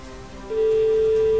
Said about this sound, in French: Première sonnerie.